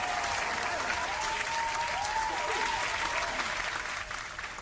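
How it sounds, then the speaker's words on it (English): A steady round of clapping and cheering from a small group, continuous and fairly close. A faint voice rises and falls underneath before the applause fades slightly at the end. "Let's give a round of applause to the AI"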